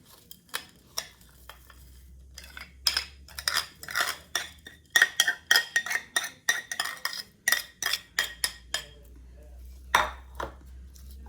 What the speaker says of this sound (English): Dump these Corn Flakes into the butter. Let's get this mixed up and see.